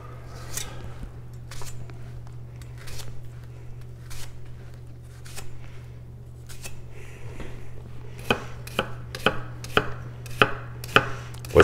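A sharp 240mm kiritsuke gyuto knife dices an onion on a cutting board, giving crisp chopping strikes. They start sparse and irregular, then become quicker and louder toward the end, over a steady low hum.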